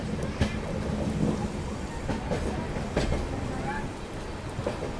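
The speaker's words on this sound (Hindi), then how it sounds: "आनंद विहार से कोई गाड़ी आ रही है" An oncoming train from Anand Vihar rumbles steadily at a distance, heard from aboard the Delhi to Gaya Amrit Bharat Express through constant heavy rain hiss, with faint sharp knocks scattered throughout.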